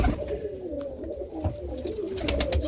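Roller pigeon hen cooing close by, a soft low repeated coo with brief rustles and shuffles around it, fairly quiet and without any talking.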